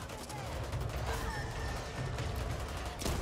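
Gunfire in the video game Back 4 Blood, a dense, steady clatter of rapid shots blended into chaotic game noise, with no clear gap throughout.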